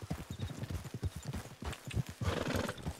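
In the Red Dead Redemption 2 game, a Thoroughbred horse's hooves clip-clop in a quick, steady rhythm, close and fairly quiet, followed by a brief whinny near the end.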